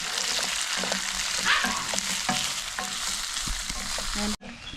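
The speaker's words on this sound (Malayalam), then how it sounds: "അതിലേക്കൊരു രണ്ട് മൂന്ന് പച്ചമുളക് കൂടെ കീറിയിട്ടുണ്ട് അതുപോലെ തന്നെ ഇതെല്ലാം ഒന്ന് നന്നായിട്ട് വഴറ്റിയെടുക്കാം" Onion and slit green chillies sauté in hot oil for a Kerala-style squid roast, a steady loud sizzle with scraping stirs of a spatula, ending in a sudden cut near the close.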